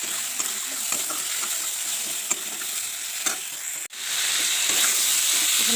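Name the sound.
ground chili and coriander spices stirred and frying in pan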